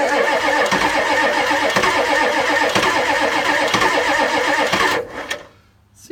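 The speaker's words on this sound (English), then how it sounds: "the starter in this thing is really sensitive, so I don't want to keep cranking this thing" A 1984 Ford F-250 with the 6.9 diesel turns over on its starter in a loud, steady rhythmic chug that runs for about five seconds without catching, then cuts off into near silence.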